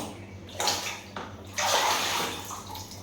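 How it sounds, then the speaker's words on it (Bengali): Water is poured from a bucket over a child at bath time, heard as separate splashing pours, with the last and longest gushing for over a second, all close and fairly soft. "ওই বালতিতে যেগুলো পানি আছে ওগুলো দিয়ে গোসল করো।"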